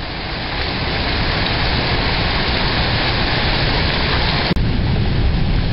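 Heavy Kansas thunderstorm with hail falling here and there: a loud, constant roar of downpour and low rumbling thunder, unbroken throughout apart from one sharp click near the end.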